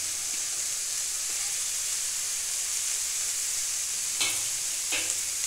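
Green peas tipped into a frying pan of vegetables sizzle with a steady hiss, with two sharper spattering bursts near the end as the pan is stirred.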